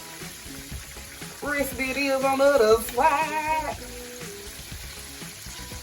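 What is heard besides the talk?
chicken frying in a skillet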